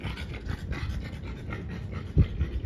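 A French Bulldog puppy pants in quick, steady bursts close to the microphone, with a brief thump near the end and no talking.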